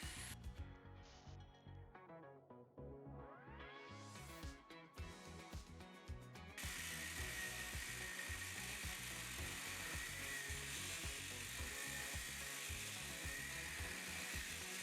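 An angle grinder cuts openings into the steel wall of a shipping container being converted into a house, a loud continuous whine with shifting pitch that rises into a steady, harsh metallic screech with no talk.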